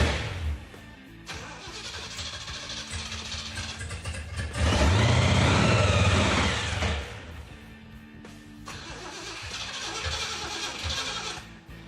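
A hotwired supercharged Jeep engine cranks with a steady rhythmic starter whir, pauses, and then cranks again in a louder, harsher stretch before settling back to cranking, all close up and without catching.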